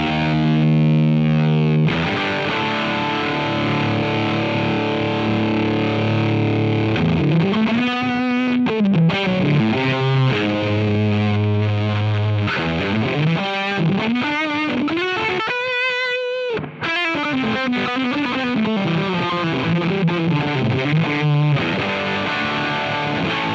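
Electric guitar through a real T-Rex Mudhoney distortion pedal with its boost on and cranked, a heavily blown-out, saturated tone ringing through sustained chords and bending lead lines, played alone and loud without talk.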